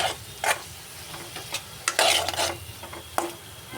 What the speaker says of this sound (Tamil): நல்லா அந்த பச்சை வாசனை போகிற வரைக்கும் கிண்டி விட்டுட்டு நல்லா நசுக்கி விட்டுருங்க.